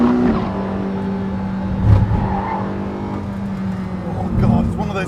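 The engine of a Porsche 918 Spyder hybrid hypercar hums steadily from inside the cabin under acceleration, swelling briefly twice, while someone talks over it.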